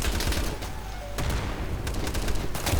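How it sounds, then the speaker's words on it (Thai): Gunfire in the Insurgency video game during co-op play: a burst of sharp, rapid shots at the start, a short lull, then several more loud cracks later on, close and punchy. "มึงยิงเม็ดเดียวทะลุโดนกูอะโดนกันหมดเลย"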